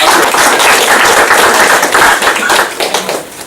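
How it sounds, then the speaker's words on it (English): Audience applause at a Scrum meetup talk, a dense run of overlapping claps at close range filling the room, steady and loud before tapering off toward the end. "Give a round of applause for"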